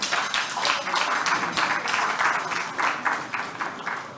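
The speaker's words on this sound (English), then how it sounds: "So once again, applaud yourselves." Steady applause from a large conference audience in a full hall fills the whole stretch, dense clapping with slight rhythmic swells and no voices.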